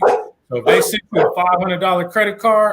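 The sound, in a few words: dog barking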